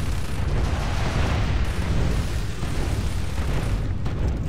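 Explosions blasting enemies into the air in the video game Gears of War 2, a dense, continuous rumbling roar that fills the whole stretch at steady loudness without pause.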